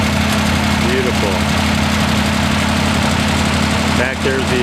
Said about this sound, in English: here again the Little Tractor Company's 1468